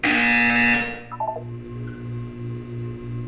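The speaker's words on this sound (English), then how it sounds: "You will hear a buzzer." A buzzer in the Portal video game sounds once, a short series of stepped electronic tones, fairly loud and alone over a steady low hum.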